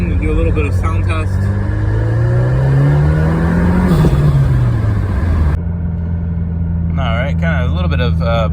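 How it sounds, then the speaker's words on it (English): Heard from inside with the windows open, a 2022 Subaru WRX with a Burger Motorsports (BMS) intake revs up and eases off in a loud, continuous engine drone, with road rumble underneath and a voice near the end. "Alright, so we got the windows open and do a little bit of sound test."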